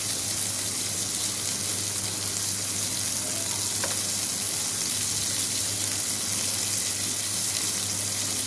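Bitter gourd (uchhe) fries in oil in a pan while being stirred, a loud, constant sizzling hiss with a faint scrape of the utensil, and no voices.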